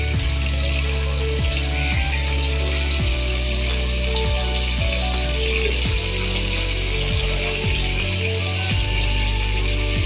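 Marinated chicken for creamy malai chicken hitting a hot pan of oil and tempering spices, frying with a steady close sizzle and bubbling throughout, with no talk.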